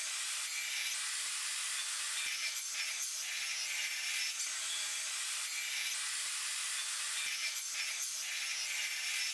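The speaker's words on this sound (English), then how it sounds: "I've actually managed to secure my saw so it won't shift while I'm cutting." A hand saw cuts wood slices for shelves on a planter build in repeated rasping back-and-forth strokes, a steady rhythmic scrape that carries on without any talking.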